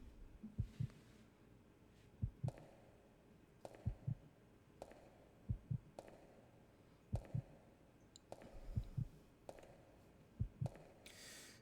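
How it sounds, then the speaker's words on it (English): A slow, steady heartbeat sound effect from the video game Resident Evil Code: Veronica X thumps in paired low beats roughly every one and a half seconds, faint and muffled under quiet ambient hum. "Oh god, the heartbeats."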